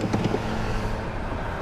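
A Tesla Model S Plaid launching hard in a drag race gives a steady, close whoosh of road and drivetrain noise at an even level for the whole short stretch, with no engine note and no voices.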